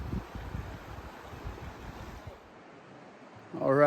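Rushing water of the North Fork of the Feather River along the Pacific Crest Trail, a steady broadband wash that is loudest at first, eases off midway, then gives way to a voice at the end.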